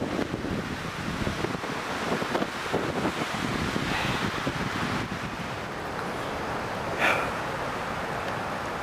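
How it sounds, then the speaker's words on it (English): Strong wind gusts roar steadily across an exposed mountain ridge line, buffeting the microphone with a broad, continuous rush and a brief sharper gust near the end. "I've got below the ridge line here to get away from the terrible, terrible wind"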